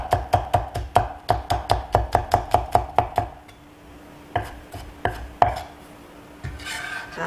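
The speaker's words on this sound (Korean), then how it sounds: "대파 다졌습니다. 굵게." Coarse chopping of green onion (scallion) with a knife on a cutting board, a steady run of about a dozen sharp, evenly spaced close chops, then a pause and a few scattered slower cuts.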